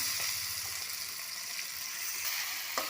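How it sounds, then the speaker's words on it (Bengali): Banana bugli frying in hot oil in a rustic village-style home kitchen, giving a steady, fairly faint broadband sizzle that runs without a break, with a small clatter near the end. "আমাদের তেল গরম হয়ে গেছে এখন তেলের মধ্যে এদিকে দিলাম"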